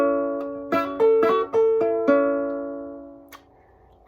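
An acoustic guitar plays a slow pattern of plucked notes and hammer-ons across strings 2, 1 and 3, about six clear notes that ring and overlap, close and alone, then fade out.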